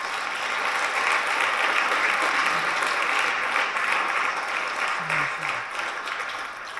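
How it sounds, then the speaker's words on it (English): An indoor audience at a school ribbon-cutting celebration claps in sustained, dense applause that builds and fades, with faint voices underneath. "So please share a round of applause for that technical team"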